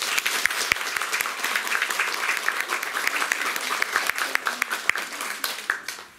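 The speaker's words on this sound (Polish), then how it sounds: "Wielkie brawa" Loud, sustained applause from an audience welcoming a writer at an author meeting, dense clapping that holds steady for several seconds and then starts to thin out at the end.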